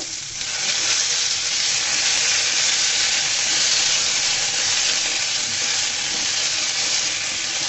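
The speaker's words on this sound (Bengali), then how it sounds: "দেখুন বন্ধুরা আমি আবারও নেড়ে ছেড়ে দিব।" Potatoes fry in a pan over lowered heat while being stirred for a cauliflower and potato chicken curry, giving a loud, steady, continuous sizzle with no talk.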